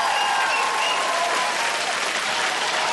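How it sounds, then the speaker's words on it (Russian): Loud, sustained audience applause at a congratulatory event, a dense even wash of many hands clapping without pause throughout. "Эти аплодисменты звучат для вас."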